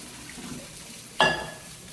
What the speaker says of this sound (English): I have my strainer here. Oh, I just wet myself. And just let's pour out the water.